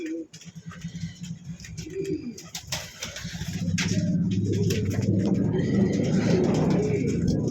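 A pigeon sitting on its eggs coos softly and repeatedly nearby, the low throaty calls growing steadier in the second half over faint background traffic.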